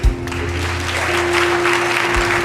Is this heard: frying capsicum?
no